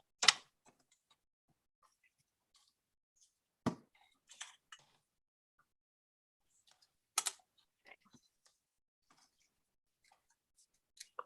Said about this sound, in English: I am just trimming this down into a little strip to go at the bottom of the card